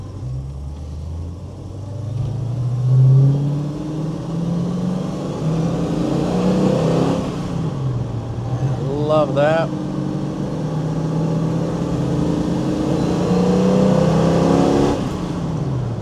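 A 1970 Ford Mustang Mach 1 with a 351 Cleveland V8 and four-speed gearbox accelerates hard through the gears. The engine roar rises and falls with each shift, and a brief exclamation is heard over it.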